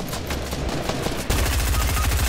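Gunfire in the video game Fortnite: rapid bursts of shots, then a denser, louder run of fast rhythmic automatic fire that continues to the end.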